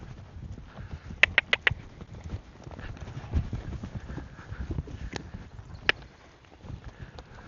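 Hooves of the horse Winston strike the ground during a training session: a quick cluster of four clip-clops, then scattered fainter steps against a quiet outdoor background.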